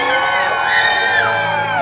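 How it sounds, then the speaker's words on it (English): A loud crowd cheers, whoops and screams at a Halloween horror night event, a dense sustained roar of many voices that fills the whole stretch. "Let me hear your cheers!"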